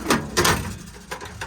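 Compartment doors on a 2015 Kenworth T270 service truck with a Summit body are shut close by, giving a few sharp metallic slams and latch clunks in quick succession.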